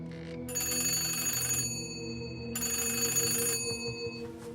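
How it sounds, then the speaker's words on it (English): A telephone rings at night with a shrill electronic bell, two long ringing bursts separated by a short pause, loud and close with no voices over it. "I figured it was okay to call because you once told me Aunt Agatha doesn't hear the phone at night"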